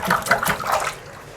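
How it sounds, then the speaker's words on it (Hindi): Water rushes down a freshly unclogged bathroom sink drain, a gurgling, splashing flow that is loud at first and then fades over about a second, with no voices. "ये देखें कितनी स्पीड से पानी जा रहा है।"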